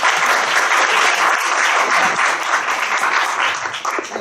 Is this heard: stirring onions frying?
no